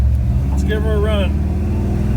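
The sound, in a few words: car with Chevy 350 small-block engine driving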